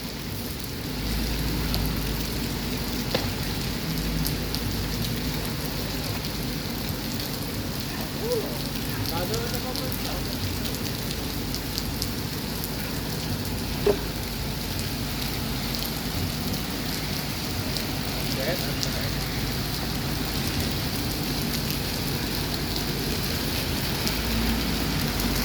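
Steady rain falls at the Alang-Alang Lebar bus terminal, a dense continuous hiss of drops on surfaces throughout, with faint talk and occasional clatters in the background.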